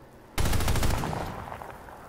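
Rapid automatic gunfire in the video game PlanetSide 2 bursts in suddenly and loud, a fast chattering stream of shots that trails off into a fading echo.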